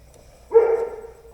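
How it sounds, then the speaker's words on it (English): A single dog gives one sharp, fairly close bark that rings out briefly over a quiet indoor background. "I apologize for all the sounds of roosters and dogs barking."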